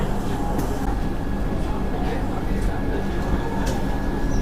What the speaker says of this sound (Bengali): বন্দে ভারত কিন্তু আবার চালু হলো।